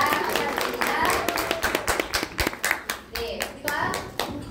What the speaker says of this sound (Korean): 우리 인생이 커다란 우산을 오늘 설계해 주신 우리 강정미 리더님께 큰 감사의 박수 보내드립니다